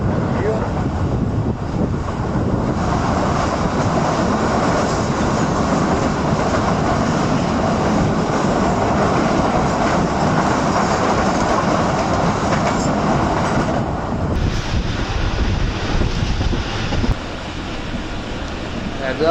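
The Shalimar Express passenger train in Pakistan running at speed, a loud, continuous rumbling roar with rail clatter and rushing wind throughout, with speech also present.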